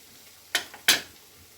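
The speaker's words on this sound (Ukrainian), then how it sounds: "Так і смажуємо 5 хвилин." Two quick scraping strokes of a spoon stirring mushrooms frying in a pan, close and distinct over a faint low background hiss.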